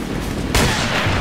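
Shotgun fire in the video game Resident Evil 4, a single loud sudden blast that cuts in midway over a constant noisy background and then rings on without fading.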